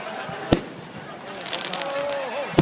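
Fireworks bursting at a school's 100th anniversary celebration in Narathiwat, two sharp loud bangs a couple of seconds apart with crowd and outdoor noise between them, a voice talking lightly underneath.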